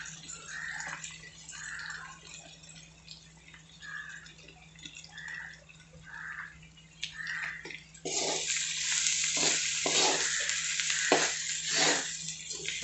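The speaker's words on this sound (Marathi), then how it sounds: "आता हे मंद गॅसवरती छान आपण परतून घेणार आहोत." Washed puffed rice being sautéed over low heat in a home kitchen pan, a steady wet sizzle and stirring scrape that grows louder and denser partway through, with no talk.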